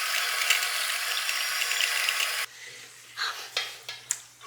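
Water pours steadily from a newly installed bathroom sink tap, a bright continuous rush that cuts off abruptly midway, followed by a few soft splashes and drips in the basin.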